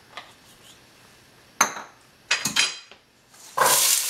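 Carrots sautéing in a hot pan with olive oil, a few sharp scrapes and clatters of a utensil against the pan followed by a burst of sizzling, close and intermittent.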